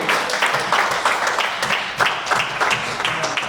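An audience claps and applauds for parents at a French and Kinyarwanda youth church gathering, steady dense clapping with a few stronger bursts, sustained throughout.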